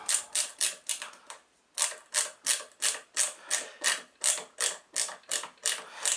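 A Gorilla ratchet screwdriver set to driving mode clicks in quick, rhythmic bursts of ratcheting, about fifteen strokes with one brief pause, close and crisp while driving a screw into a thick wooden board.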